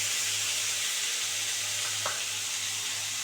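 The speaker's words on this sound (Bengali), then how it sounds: "এবার এর মধ্যে আমি এক এক করে মশলাগুলো দিয়ে দেবো।" Cauliflower frying in a pan for a picnic-style dish crackles and sizzles continuously at close range, with a faint stir or tap of a spoon partway through.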